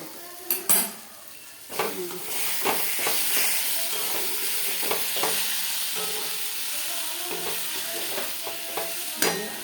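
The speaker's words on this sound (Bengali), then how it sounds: "একটু নেড়ে নেব।" Kochu curry frying in a pan, a spoon scraping and clattering against the metal as it is stirred, with soft sizzling underneath; close, with several sharp knocks spread through.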